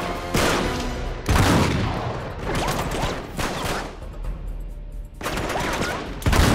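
Blind-fire gunfire in Uncharted 3: Drake's Deception, with loud, close bursts of rapid automatic shots and booms in several separate volleys, each trailing off between the bursts.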